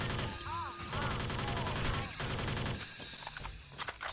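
Rapid automatic gunfire in the sci-fi shooter Alpha Prime, a steady rattling stream of shots that fills the whole stretch, with a faint voice briefly under it.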